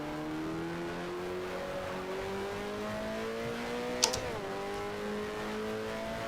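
A 1974 Formula One car in F1 Challenge drones steadily through the winding Nordschleife, its engine pitch rising gradually as it accelerates, with a brief sharp click or knock partway through; the engine sound stays close and continuous.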